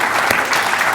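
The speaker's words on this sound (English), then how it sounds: "Do us a favour, give Luca a big round of applause." Steady, loud applause from a seated audience at a talk, a continuous wash of many hands clapping throughout the short moment.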